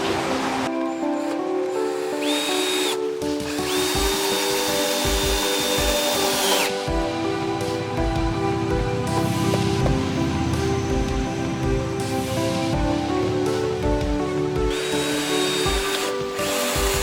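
A power drill driving screws into wooden seat boards, whirring in several bursts with rising pitch as each screw seats, heard close over a steady hiss of rain-like background noise.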